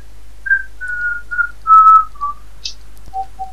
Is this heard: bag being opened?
no